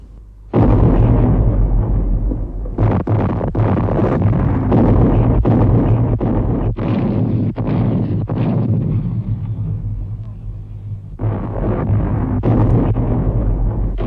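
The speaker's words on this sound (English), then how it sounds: "20 miles behind the German lines, a Krupp's 15-inch naval gun raised its barrel from its camouflage netting." A Krupp 15-inch naval gun firing behind German lines in a World War I bombardment at Verdun: repeated heavy booming blasts with rolling rumble, loud and close, the shots coming in irregular succession with brief lulls between them.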